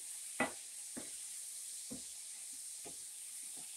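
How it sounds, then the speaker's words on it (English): Apples frying in a pan give a faint, steady sizzle, with a few soft scraping stirs spaced about a second apart. "I'm going to give my apples a stir"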